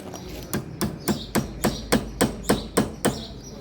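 Hammer taps an insert into a Club Car DS golf cart part: about ten sharp, evenly spaced metallic knocks close by, each with a short ring, with no talk.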